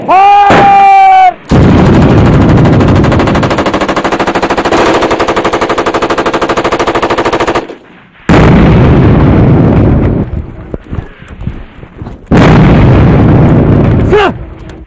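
Battle-scene gunfire from soldiers on a battlefield: sustained, loud machine-gun bursts and booming explosions run almost continuously, broken by brief pauses, with a shouted command at the start.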